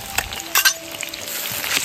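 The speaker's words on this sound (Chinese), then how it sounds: "现在起锅烧油，放入姜蒜、干辣椒、" Ginger, garlic and dried chili hit hot oil in a wok and sizzle loudly and continuously, with brief scraping bursts from stirring.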